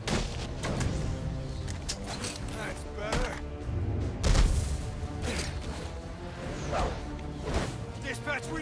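Gunfire and combat noise in the video game Batman Arkham Origins, with repeated sharp bursts and crashes over a dense game soundtrack while someone talks throughout.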